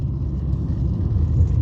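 Steady low car engine rumble and road noise from inside a moving car in the mountains of Italy, continuous and moderately loud with no talking.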